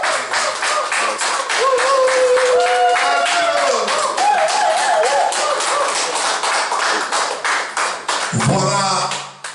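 Guests at a family end-of-year celebration clap in a loud, rhythmic burst, with voices calling out over the hands and a sharp thud near the end.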